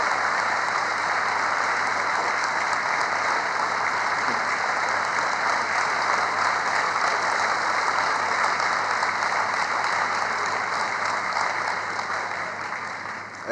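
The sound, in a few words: crowd applause at a political rally speech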